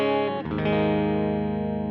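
Electric Jazzmaster-style guitar with single-coil neck and humbucker bridge pickups, run through Koch and Hotone micro amp heads in stereo, strumming a chord then letting a sustained, effected tone ring out steadily, close and clear with no speech.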